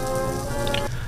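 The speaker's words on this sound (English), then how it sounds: "The sound of the rain beating down accompanied the somber tunes of the Singapore Police Force band" Heavy rain beating down at an outdoor funeral procession for a firefighter, a dense steady patter of drops close by, with a faint tonal hum underneath.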